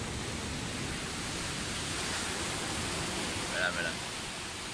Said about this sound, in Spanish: Y el mar está aquí cerquita, que se nos viene encima.